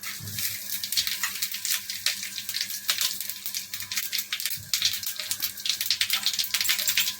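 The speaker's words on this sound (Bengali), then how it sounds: "তেলটা গরম হয়ে এসছে এবার ফোড়নটা এর মধ্যে দিয়ে দেবো একটা তেজপাতা জিরে আর শুকনো লঙ্কা" Bay leaf, cumin and dried chili frying in hot oil, a bright steady hiss with fluttering crackles and a few low knocks, close and moderately quiet.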